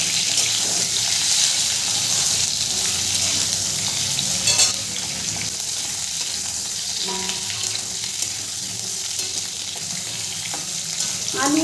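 Potatoes and carrots frying in a pan for Bengali sukto, a steady soft sizzle with occasional stirring scrapes and a brief tap-water rush, continuous and close.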